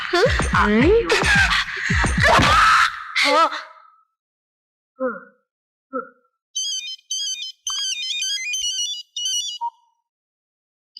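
A person talks at first, then a bright electronic phone ringtone plays a repeating melodic pattern in several short bursts, clear and close.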